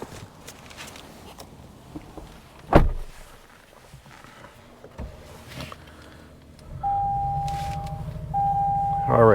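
Inside a 2023 Toyota Tundra TRD Pro, quiet door and cabin thumps come first. The engine then turns over and settles into a steady low idle, with an electronic chime sounding twice over it.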